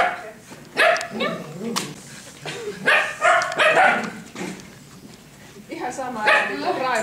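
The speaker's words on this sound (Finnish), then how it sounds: "Vielä kuitenkin molemmat haukkuu tossa." Two young puppies, about four months old and sisters, bark and yip in short overlapping bursts close by, with whimpers between, while a person talks over them indoors.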